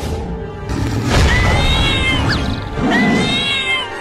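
A cartoon mother cat yowls and caterwauls loudly in two drawn-out, wavering cries while fighting a lion to protect her kittens, with a thud beneath the first cry.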